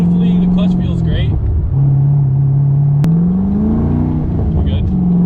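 An LS3-swapped Pontiac Solstice pulls hard, its engine droning steadily, dipping briefly at a gear change and climbing again, loud and close from inside the car, with a voice speaking over it.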